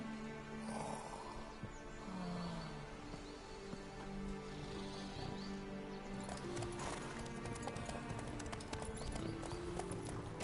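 Rapid, rhythmic hoofbeats of horses galloping in a video game horse race, with a brief whinny, over a dense bed of background music and ambient noise.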